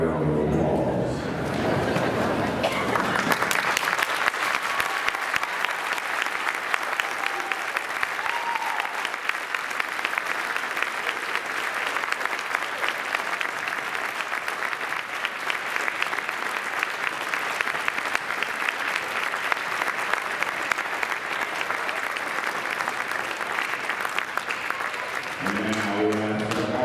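An audience in a school gym at a varsity girls basketball game applauds military veterans, sustained loud clapping and crowd noise building quickly and holding steady for over twenty seconds before stopping abruptly, with voices mixed in.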